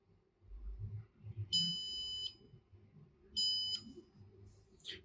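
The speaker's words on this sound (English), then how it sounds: "Yep, ground should beep." Two short, bright electronic beeps come from a continuity tester touched to a ground pin, each lasting under a second, with soft low handling noise from the test setup between them.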